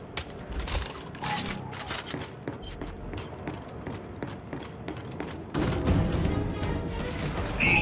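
Gunfire and explosions fill a live fire exercise in the video game Gears 5, with dense bursts of shots, thuds and rumbling booms continuing throughout and growing heavier near the end.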